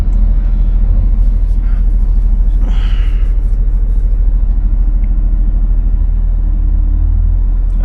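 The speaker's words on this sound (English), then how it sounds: "And this car is going to try to squeeze past" A car squeezing past on a narrow two-lane bend, heard as a loud steady road rumble from inside a vehicle, with a brief swell as it goes by and a voice talking over it.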